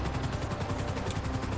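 A helicopter in Grand Theft Auto 5 thumps with fast, even rotor beats, loud and close over a constant engine whine.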